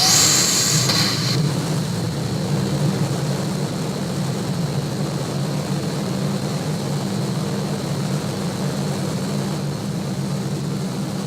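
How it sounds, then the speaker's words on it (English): SpaceX Raptor rocket engine firing on a test stand, a steady, loud broadband roar that holds continuously throughout without a break. "This is a Raptor firing."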